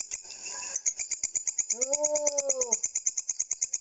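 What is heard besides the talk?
grasshopper chirping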